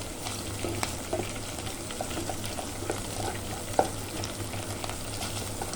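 Ginger and pork spare ribs sautéing in a stir fry, a continuous moderate sizzle with scattered spatter pops and occasional utensil scrapes from stirring, plus a low steady hum underneath and no speech.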